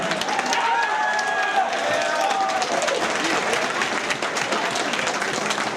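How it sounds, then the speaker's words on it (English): Crowd applause and cheering for two fighters at a WXC mixed martial arts event, a continuous, loud wash of clapping and crowd noise in an arena, with a brief tonal whistle or shout near the start. "Round of applause for both these fighters one time."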